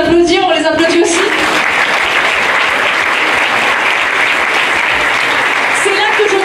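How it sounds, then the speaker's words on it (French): A live show audience breaks into loud, dense applause that swells and holds steadily for several seconds, with a voice heard briefly at the start and again at the end. "Vous pouvez vous applaudir, on les applaudit aussi."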